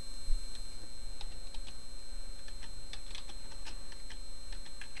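Typing on a computer keyboard while searching a clinical health database, heard as a steady run of light, irregular clicks over a constant background hum.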